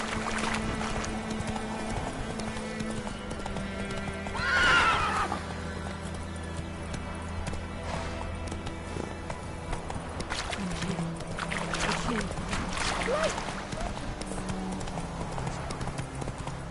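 Horse in the video game The Witcher 3 trotting with rhythmic clip-clop hoofbeats and giving a clear whinny, the hooves steady and moderately close over a quiet game soundscape.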